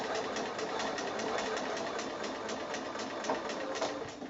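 A sewing machine runs steadily as it stitches a quilt block, a close, continuous rapid mechanical whir with a fast even pulse. No one speaks.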